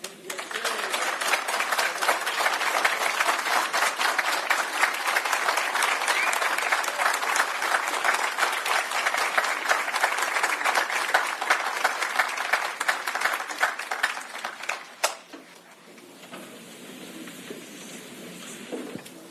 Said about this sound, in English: I think that deserves another hand of applause.